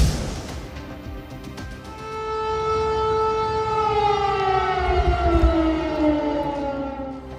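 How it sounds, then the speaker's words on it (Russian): Civil defense warning siren tested on the streets of Bobruisk, Belarus, wailing loud and steady for several seconds, its pitch slowly gliding downward as it carries across the city, with no talk. "Систему оповещения населения протестировали в Беларуси. Сирена зазвучала и на улицах Бобруйска."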